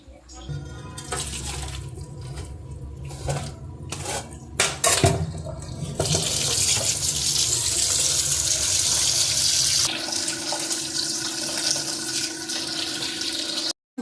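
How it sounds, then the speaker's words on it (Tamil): Boiled noodles in a strainer rinsed under cold tap water at a kitchen sink: a few metallic clatters of the utensil first, then a loud, steady rush of running water that continues close up to the end. "இதை வந்து பச்சை தண்ணியில் நல்லா வாஷ் பண்ணணும்"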